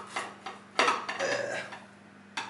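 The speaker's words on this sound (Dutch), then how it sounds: "Oké, zo snijden we even door het midden." A knife cuts through a dessert pizza topped with chocolate sprinkles on a plate, producing several close metallic scrapes and clinks against the dish with a longer dragging stroke in the middle, no talking.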